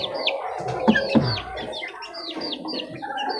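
A group of young chicks peep continuously in rapid, high-pitched chirps, overlapping and close, with a couple of soft knocks nearby.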